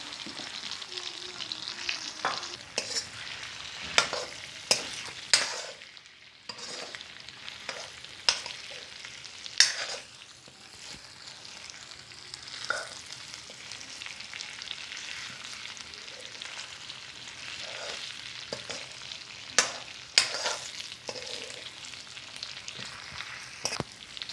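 Beef sizzles and fries with freshly ground spices for a Pakistani-style namkeen gosht, a steady sizzle broken by frequent scrapes and stirs of the spoon, close and fairly loud, with no voices.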